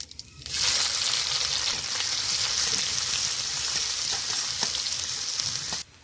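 Whole cumin seeds, chopped onion and green chili fry in hot mustard oil. A steady, bright sizzle begins sharply about half a second in and holds evenly, close and fairly loud, then cuts off just before the end, with no voices.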